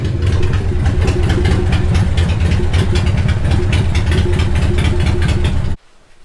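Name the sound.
1989 Harley Davidson EVO Softail engine starting and idling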